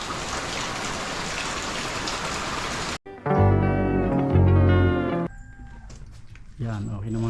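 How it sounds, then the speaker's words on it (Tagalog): Heavy rain hisses steadily for a few seconds, then cuts off abruptly as other loud, tonal sounds take over. "Walang tigil yung ulan."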